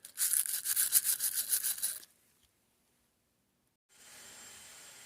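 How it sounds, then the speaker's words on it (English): A brush scrubs an acetone-wetted flywheel weight ring for a Kawasaki KX450 in quick, raspy back-and-forth strokes for about two seconds, then near silence, then a faint hiss. "Acetone wash this. And scrub it down."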